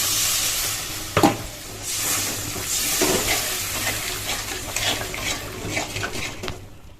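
Water poured into a pan of oil-released, well-fried spice paste, sizzling and bubbling steadily with stirring scrapes and light clinks of utensils against the pot, close up with no talk.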